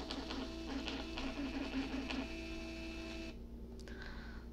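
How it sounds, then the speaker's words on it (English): A thermal ticket printer runs steadily, its mechanical whirr and buzzing feed continuing close and alone, then shifting to a quieter tone near the end. "The Tessel will pull that and it will feed it to the thermal printer"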